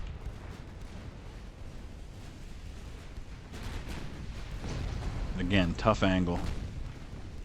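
Deep, rumbling naval gun salvos from warships in Ultimate Admiral: Dreadnoughts, muffled booms over a steady low roar, with someone talking briefly near the end.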